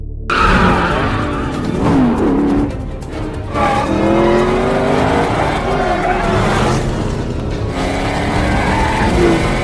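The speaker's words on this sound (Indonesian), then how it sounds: "Saat keluar, John sempat melihat sebuah mobil sport kabur." A sports car speeds away in a film scene, loud engine roar with tire squeal and skidding sweeps, dense and continuous under a dramatic soundtrack.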